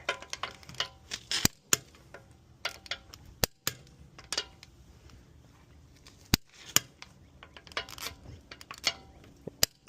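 A torque wrench tightens the lug nuts on a 2022 BMW X3 xDrive30i, giving sharp, close metallic clicks and ratcheting ticks scattered irregularly over about ten seconds, with no talking.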